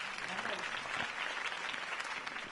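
Applause from a crowd at a mayoral campaign speech in the Batman: The Telltale Series video game, steady broadband clapping throughout, with a voice speaking faintly beneath it.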